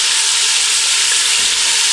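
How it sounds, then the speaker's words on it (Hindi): Ginger and garlic paste fries in a pan over low heat, a loud, steady close sizzle with no pauses. "अब इनको तकरीबन 2 मिनट के लिए हल्की आंच पर फ्राई कर लेंगे।"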